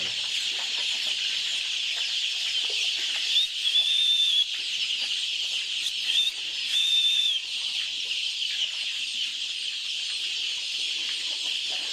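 A dense flock of black chicken chicks, thousands of them, cheeping together in a steady high-pitched chorus, with a few sharper peeps rising above the mass.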